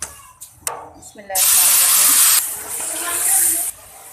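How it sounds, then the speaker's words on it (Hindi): Water poured into a hot pan of semolina and sugar while making suji halwa, a loud sizzling hiss that bursts in suddenly and runs for a couple of seconds before easing, after a few soft clinks. "अब मैं इसमें डालूँगी पानी।"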